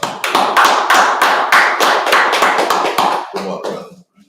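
A group at a brotherhood class meeting in Fayetteville, North Carolina claps in steady unison, about a dozen sharp, loud, evenly spaced claps that tail off into a few scattered ones before stopping.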